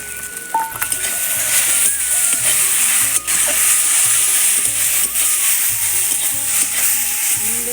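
Crushed neem leaves go into fried eggplant in a pan, giving a loud, continuous close sizzle and hiss with faint stirring scrapes and no talk.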